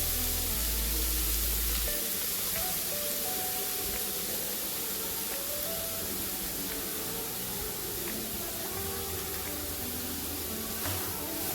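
Carrots sautéing in hot ghee for carrot halwa, a dense steady sizzle that stays loud and close throughout with faint stirring ticks.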